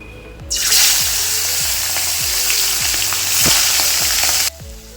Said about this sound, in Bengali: তারপর কড়াইয়ে তেল দিয়ে চিংড়ি মাছগুলো ভেজে নেব।